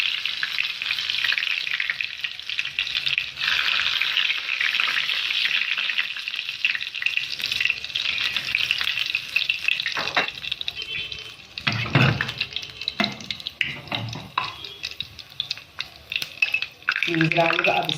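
A garlic clove sizzles and fries in hot oil in a pan for pizza sauce, with a steady bright crackle and occasional stirring and clatter, up close and loud throughout.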